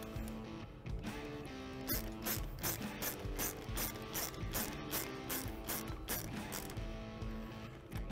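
Ratcheting wrench clicks steadily while tightening the mounting hardware on a Can-Am Commander folding front windshield, a fast run of close mechanical ratchet-pawl clicks over several seconds with brief pauses.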